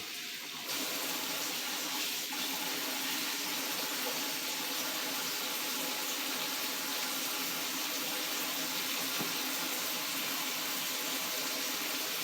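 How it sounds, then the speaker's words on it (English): Tap water runs steadily into a bowl being rinsed in a home kitchen, making a continuous loud splashing hiss that starts abruptly and keeps up for about twelve seconds with no talking. "I'm going to rinse this bowl"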